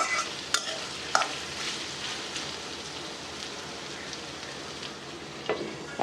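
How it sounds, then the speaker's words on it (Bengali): Potatoes and onions fry in a pan while spices are stirred through them, giving a soft, steady sizzle like light rain, punctuated by a few sharp utensil clicks and scrapes, with no talking. "এখন এই মশলাটাকে আলু পেঁয়াজের সাথে নেড়ে নেড়ে মিশিয়ে নিব।"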